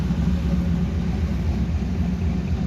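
A Chevrolet C10 truck engine idles steadily up close, a loud, even low rumble that holds without change the whole time.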